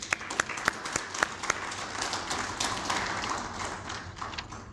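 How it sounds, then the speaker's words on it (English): A crowd at a South African Qualifications Authority gathering applauds: dense clapping with sharp individual claps up front, blending into a sustained, even wash of applause at moderate volume. "let us give all of them a round of applause"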